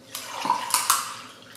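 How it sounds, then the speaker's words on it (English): Cold brew coffee poured into a glass, a steady trickling, splashing stream up close that lasts just over a second and then tapers off, with no voices. "Pour myself a little cold brew here."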